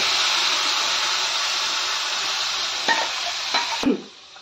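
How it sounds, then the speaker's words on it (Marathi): Spice paste frying in hot oil for a val papdi vegetable dish: a loud, steady sizzle with a few clinks of a stirring spoon, ending in a clunk before the hiss drops away. "ती पेस्ट होती ती आपल्याला थोडीशी तेलामध्ये फ्राय करायची आहे"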